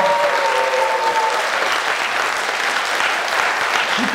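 Loud, dense applause from a studio audience during a talk show segment on brand marketing, a continuous wash of clapping held evenly throughout, with a brief tonal sound at the start.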